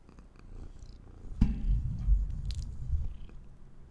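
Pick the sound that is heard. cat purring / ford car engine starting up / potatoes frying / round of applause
cat purring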